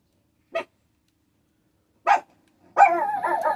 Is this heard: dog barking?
yes